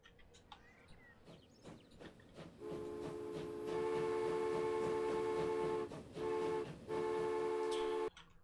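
A train runs on a passenger line in the Transport Fever building game, a steady rolling rumble with a sustained horn-like tone swelling in the middle, briefly dropping out and returning before it ends, with faint bird calls early on.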